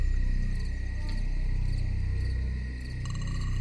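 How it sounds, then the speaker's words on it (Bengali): Shrill, steady insect chirring fills the scene with several sustained high tones, continuous and fairly loud, with no voices. "তীব্র স্বরে ঝিঝি ডাকছে"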